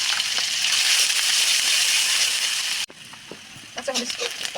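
Green chilies, onion and garlic fry in mustard oil with a steady loud sizzle that cuts off abruptly partway, followed by quieter crackling and a few scraping stirs.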